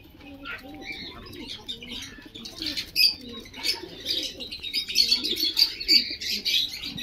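Sarangpuri pigeons coo softly among high, scattered chirps from other birds, with faint wing flutters and a voice talking low in the background.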